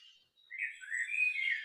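Birds chirp and tweet softly inside a virtual dome space, with a faint brief call followed by a longer, fluttering trill.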